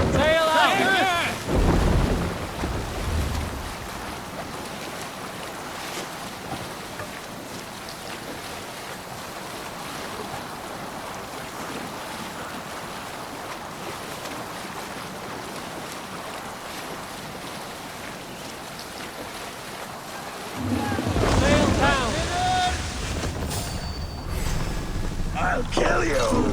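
A Viking longship sails the open sea in Assassin's Creed Valhalla, with a steady wash of waves and wind running throughout, while voices shout commands at the beginning and again near the end.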